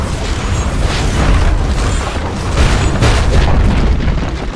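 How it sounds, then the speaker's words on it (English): The Dire's middle tower is destroyed in the Dota 2 video game with a loud, sustained, rumbling explosion that booms continuously for several seconds. "Dire's middle tower has fallen."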